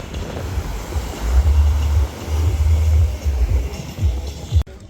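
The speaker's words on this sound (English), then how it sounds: "the waves, man. The waves." Ocean waves wash onto a West African beach in a steady, deep roar that swells and fades every second or so, with strong wind buffeting the microphone and no talking.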